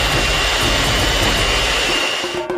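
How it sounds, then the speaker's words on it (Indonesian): An electric hand mixer whips egg whites for a giant homemade Twix, giving a steady, loud whirring drone that runs unbroken and then cuts off near the end. "kita memutuskan untuk menggunakan mixer seperti ini"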